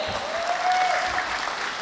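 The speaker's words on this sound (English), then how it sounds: "Very big round of applause for Monis Bhai" A crowd at a company annual meet and awards night applauds steadily for Monis Bhai, a dense, even clapping throughout with a faint tone running beneath.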